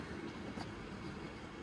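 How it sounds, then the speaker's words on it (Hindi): An Indian Railways train pulling out of a station on its way to Ayodhya gives a steady, dense rumble of moving rail cars, continuous and fairly loud with no voices over it. "तो फाइनली अपनी गाड़ी रेलवे स्टेशन से खुल चुकी है और अब ये बढ़ती रहेगी"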